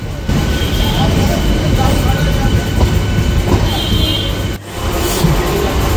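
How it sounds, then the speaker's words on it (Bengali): Krishnanagar City–Sealdah AC local train at Krishnanagar City Junction, a loud, steady rumble of carriages and wheels rolling close by, with a brief dip near the end and voices faintly mixed in. "কৃষ্ণনগর সিটি জংশনে ঢুকতেই আমাদের সাথে দেখা হয়ে গেল AC লোকালের, Krishnanagar city Sealdah AC local"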